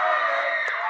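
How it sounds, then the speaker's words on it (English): A high-school basketball crowd in a gym cheers and yells loudly, a dense, sustained roar of many voices meant to rattle a player during a close game. "you can hear the Northwest crowd really trying to rattle Cadell Williams"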